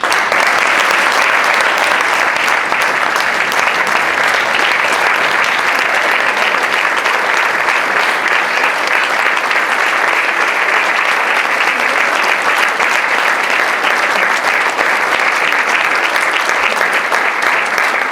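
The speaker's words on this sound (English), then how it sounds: "Please join me in a round of applause for the 12 newest second lieutenants in the United States Army." Sustained, loud audience applause rings out at a US Army commissioning ceremony for twelve new second lieutenants, an even wash of clapping continuing without pause for well over fifteen seconds.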